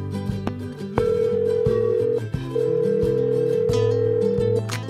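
A telephone ringback tone sounds while a call is placed, long steady tones heard over a background of musical notes, with no speech.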